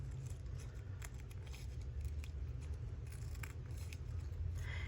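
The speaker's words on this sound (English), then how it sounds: "let me get him cut out a little bit more" Scissors cut out a small paper monkey picture for a junk journal page, giving steady, close snipping and rustling paper over a constant background hiss.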